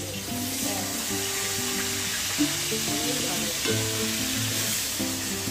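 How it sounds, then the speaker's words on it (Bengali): Steady sizzling of potatoes frying in a pan with a constant hiss, while background music with a melodic tune plays throughout. "ফুলকপি আলু ভাজা হয়ে গেছে, না আলু ভাজা চলছে"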